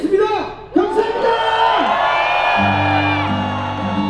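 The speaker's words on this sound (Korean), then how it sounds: "박수와 함성으로 마무리하겠습니다" Crowd at a candlelight protest rally in Andong cheering and shouting at the close, with loud whoops and voices, joined near the end by a steady droning tone.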